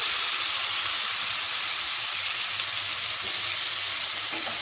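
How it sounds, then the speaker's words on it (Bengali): Sliced onions fry in hot oil for a duck egg korma, giving a steady, even sizzle and hiss that holds without a break, close by, with no talk over it. "এখন আমি এই তেলের মধ্যেই কুচিয়ে রাখা পেঁয়াজটাকে ভেজে বেরেস্তা করে নেব।"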